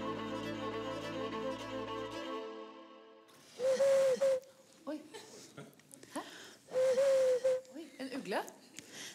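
A woman imitates a dove's call by tongue whistling, two clear sustained whistled coos each followed by breathy warbling, with quiet talk between them.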